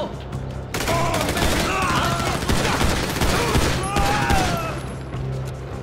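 Rapid bursts of gunfire in GTA 5 crackle in a dense volley, with a voice talking over the shooting.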